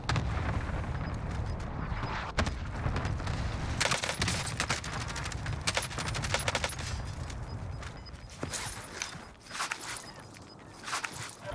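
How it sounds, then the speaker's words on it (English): Cluster strike explosions in Call of Duty Warzone land as a dense barrage of booms and crackling blasts, loud and continuous, easing toward the end with scattered impacts. "Enemy cluster strike."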